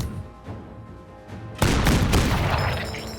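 After a quiet stretch, a loud booming video game cannon blast erupts, followed by rumbling explosive reverberation and scattered crackling impacts that slowly fade.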